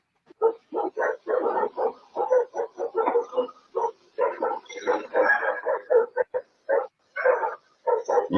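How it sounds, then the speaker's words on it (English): Several dogs bark and yip in quick, uneven bursts, at moderate distance and fairly loud, with short gaps of near silence between barks. "You hear the dogs, right?"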